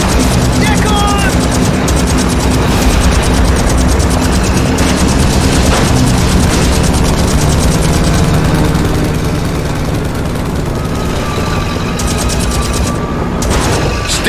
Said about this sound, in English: I hear airplanes! We're being tracked from the air!